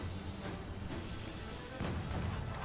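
Ship cannons fire in a naval battle in the game Assassin's Creed 4 Black Flag, with deep booms over a continuous rumbling sea-battle background, one stronger blast about two-thirds of the way through.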